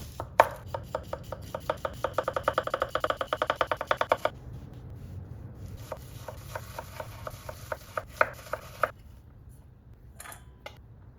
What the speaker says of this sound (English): Now we'll finely chop half of a white onion.